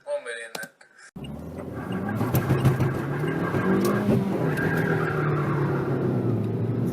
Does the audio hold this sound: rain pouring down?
no